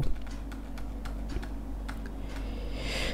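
Keystrokes from typing a heading on a computer keyboard, a quick irregular run of light clicks close to the mic over a steady low hum, with no voices.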